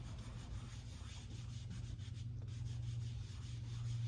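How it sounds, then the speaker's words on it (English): Shellac and oil being rubbed by hand into a wooden workpiece, a steady, soft, close friction sound with a continuous low hum underneath, no talking. "I just start working this shellac in oil"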